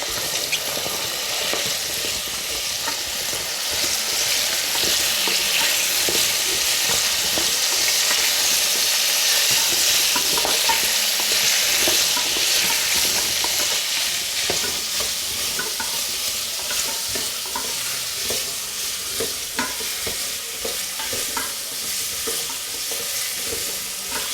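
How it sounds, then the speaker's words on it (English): Chopped vegetables for vegetable biryani are stirred as they fry in a pot, giving a steady loud sizzle with constant scraping and stirring that runs unbroken throughout. "And mix up everything."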